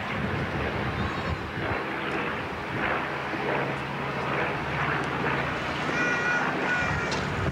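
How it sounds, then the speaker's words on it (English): A 1941-built B-25 Mitchell bomber drones overhead, its piston engines producing a loud, continuous broadband roar with steady low throbbing that stays constant and near throughout. "This is a B-25 Mitchell."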